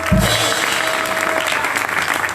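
A church congregation applauds, a dense wash of clapping from many hands filling a hall, with a brief voice at the start.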